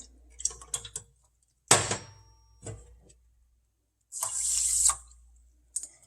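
Short bursts of water splashing from a tap into flax seeds for homemade hair gel, the first brief and a second longer pour a few seconds later, with quiet clinks between.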